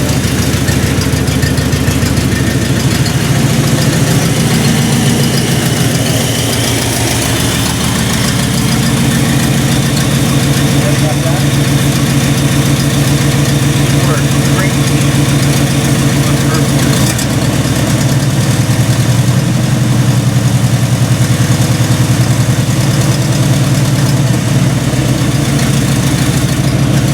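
A KITT replica car engine idles steadily with a low, continuous hum and slight shifts in RPM, with people talking over it now and then.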